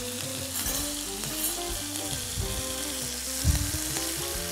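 Kidneys sear in a hot frying pan, giving a loud, continuous close sizzle with spatters and occasional stirring, with no voices.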